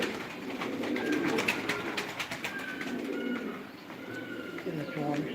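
Diyarbakır Güvercin pigeons coo softly in a loft, low repeated murmuring calls layered over a steady background, with someone speaking at moments.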